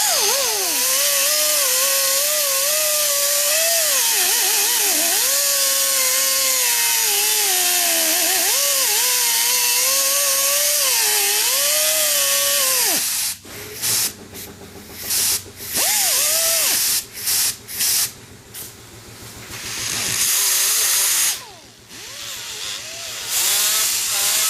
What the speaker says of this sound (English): We're just going to use a standard cutoff wheel on this